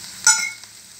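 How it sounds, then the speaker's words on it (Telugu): Chana dal, cumin, urad dal, mustard seeds and dried red chillies hit hot oil for a tomato chutney tempering, giving a short, close, sharp sizzling burst that quickly settles into a faint crackle. "శనగపప్పు, జీలకర్ర, మినపప్పు, ఆవాలు, తాలింపు గింజలు వేసుకున్నానండి"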